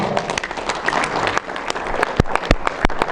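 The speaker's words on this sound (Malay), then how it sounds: "Tepuk tangan kepada kita semua." Group applause fills a training program seminar room, a dense, busy patter of clapping with a few sharp, close claps standing out near the end.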